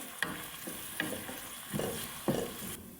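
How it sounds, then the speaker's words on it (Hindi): Sliced onions sizzling in hot oil for a beef tahari, with a steady fry hiss broken by several sharp stirring scrapes of a spoon in the pan, close and moderately loud with no talk. "अब हम इसमें डाल देते हैं प्याज। प्याज को थोड़ा सा फ्राई कर लेंगे।"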